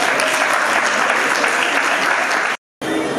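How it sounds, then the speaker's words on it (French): A crowd applauds steadily at a civil wedding ceremony in Congo-Brazzaville, a dense, loud wash of clapping that runs without pause before cutting out briefly and resuming. "Applaudissez s'il vous plaît."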